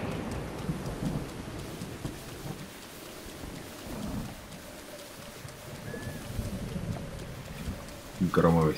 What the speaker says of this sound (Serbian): Gromovi seveju.